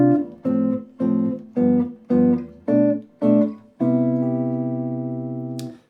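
Jazz guitar comping through a major ii-V-I with moving inner voices on the two and five chords: six short, clipped chord stabs, then a final chord ringing out and slowly fading.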